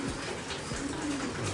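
Several pigeons coo softly and repeatedly at close range, their low throaty calls layered over steady background noise in a flooded pigeon loft during feeding.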